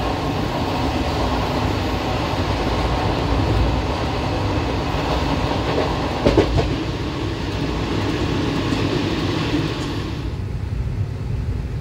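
A Kolkata to NJP special passenger train runs along the line, a steady rumble of wheels and carriage with faint clatter and a brief louder jolt partway through.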